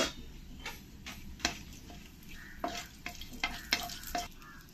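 Bay leaves and dried red chilies fry in hot oil, crackling with a faint steady sizzle broken by sharp, irregular pops and ticks close by.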